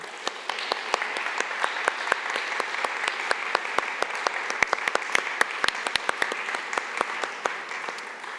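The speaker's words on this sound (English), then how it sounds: "a round of applause" A conference audience at a Baltic maritime spatial planning forum's closing session applauds the panelists, with dense, steady clapping from many hands sustained throughout and sharp individual claps standing out nearby.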